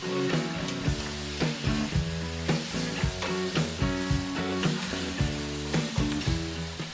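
Lobster heads with tomato paste sizzle and char in a hot pan, a steady frying hiss under rhythmic background music with a strong beat.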